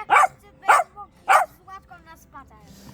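Several dogs bark at a campsite, three loud sharp barks in quick succession followed by softer yips and whimpers, close by.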